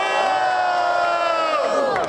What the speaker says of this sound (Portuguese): Vai barulho pra Isabela aí nessa porra